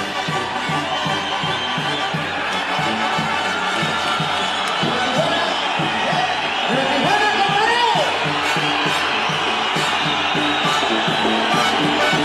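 A boxing arena crowd roars steadily as entrance music plays for Morales walking to the ring, with cheers and whoops swelling around the eighth second and a loud, continuous din throughout.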